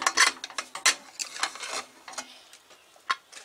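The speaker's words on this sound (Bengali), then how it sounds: "এবার দেখুন ঢাকনাটা খুলে আমি দেখি দমটা" Metal pressure cooker lid being worked open after cooking egg biryani, a quick run of sharp clicks and small metallic clinks, close and fairly light, with short gaps between them and no talking.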